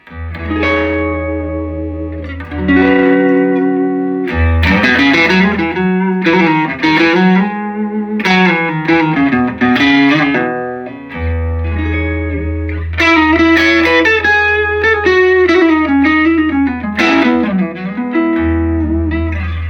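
An electric guitar played through a small 3-watt ElAtreides amplifier, loud and close, with sustained chords and melodic runs, bright effects and noticeable reverb.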